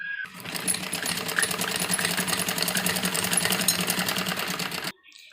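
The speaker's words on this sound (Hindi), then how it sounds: "तो देखिए इस तरीके से हमें इसमें सिलाई लगानी है" A sewing machine runs a straight stitch along the pleats of a girl's full-sleeve frock, whirring rapidly and evenly for about five seconds before stopping abruptly.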